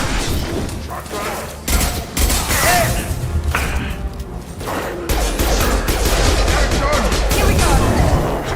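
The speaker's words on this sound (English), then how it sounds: "Shotgun." Shotgun blasts and heavy gunfire in the Mass Effect Legendary Edition video game, a chaotic firefight of repeated booms and thuds with voices talking over the shooting.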